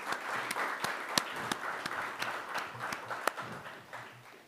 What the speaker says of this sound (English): And I think we should give him a round of applause.